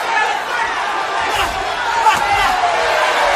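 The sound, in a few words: boxing crowd cheering and urging on the fighter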